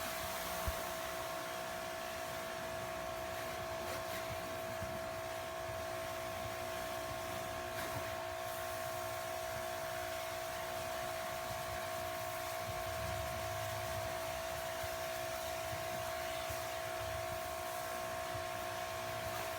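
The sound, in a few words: electric pressure washer, 2000 psi, rinsing car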